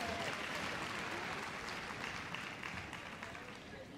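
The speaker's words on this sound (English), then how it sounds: "Give her a big round of applause when she comes in." A crowd at Crufts gives sustained, dense applause as a competitor enters the arena for a freestyle heelwork to music dog event, a steady wash of many hands clapping in a large hall that holds loud throughout, with a faint voice beneath.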